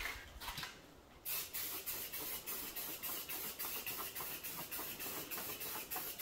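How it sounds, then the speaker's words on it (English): A can of Rust-Oleum Ultra Matte Black spray paint hisses in a rapid series of short bursts, each a soft rush of mist, close by and fairly quiet. "I'm gonna get some Rust-Oleum Ultra Matte Black and spray this corner right here."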